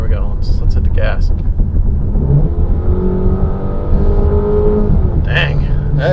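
A 2020 Jeep Cherokee with the 2.4 liter base engine revs under hard acceleration, a steady, continuous engine drone rising in pitch over several seconds, with people talking over it inside the cabin.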